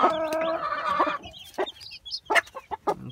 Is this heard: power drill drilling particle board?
no